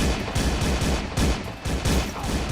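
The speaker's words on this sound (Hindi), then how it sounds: "ये किसने फायरिंग कर दी?" Rapid bursts of gunfire crackle through a neighbourhood street in a butchers' quarter, sharp shots repeating in quick irregular volleys, loud and close.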